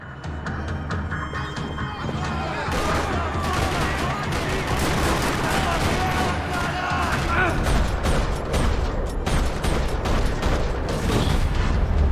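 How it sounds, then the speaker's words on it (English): Rapid, continuous bursts of gunfire in a parking lot in the video game Max Payne 3 rattle loudly for several seconds, dense and overlapping, with mechanical clatter and a few heavier booms mixed in. "Another parking lot rattling with gunfire."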